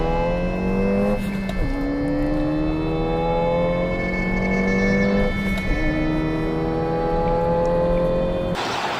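A Mk7 Ford Fiesta ST small car engine revs steadily, its pitch rising and falling in long sweeps, heard alone and fairly close in a car park.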